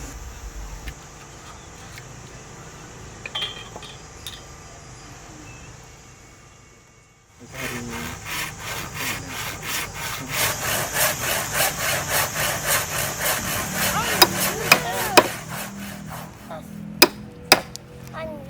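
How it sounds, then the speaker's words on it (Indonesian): Wood is worked by hand for the frame of a traditional knock-down house, with a quiet stretch giving way to loud rhythmic scraping and rubbing strokes, followed by a few sharp knocks near the end. "Memahat"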